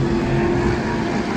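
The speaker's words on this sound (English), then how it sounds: "as I listen to the exhaust note of these big, burly American V8s." Deep, steady roar of big American V8 race cars at a historic motorsports reunion at Laguna Seca near the corkscrew, a continuous loud engine drone with no breaks.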